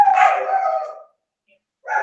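A dog barks indoors at home with a long, drawn-out bark, then a short silence, then a second bark cut off at the end.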